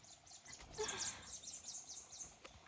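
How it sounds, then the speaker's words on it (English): Birds chirp and trill faintly in the background, a few quick high calls rising and falling, with one voice sounding deeper than the other. "birds are singing."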